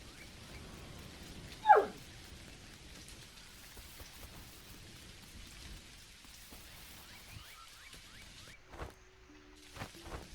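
Steady in-game rain patters softly across the whole stretch in the video game Dinkum, a faint wash of falling drops with a brief louder whoosh near the start and a few small interface clicks near the end.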